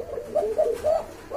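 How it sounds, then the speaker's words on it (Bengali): A prized pigeon cooing on its own, a few close, soft rolling coos in quick succession with short pauses between them. "হ্যাঁ হ্যাঁ আমরা ক্লিয়ার করে দিলাম যে কবুতর আসলে প্রচন্ড ডাকে ওইটা"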